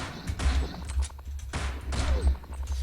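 Rapid bursts of automatic weapon fire ring out in the Counter-Strike Online game, with sharp repeated shots in several volleys. A low rumble sits beneath them across the whole clip.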